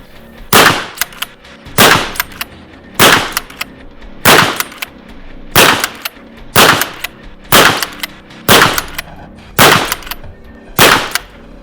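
Hunt Group MHP pistol firing a 10-shot magazine, ten loud, evenly spaced shots about a second apart, each sharp crack followed by a short ringing decay.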